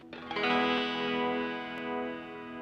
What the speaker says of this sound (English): one side phaser.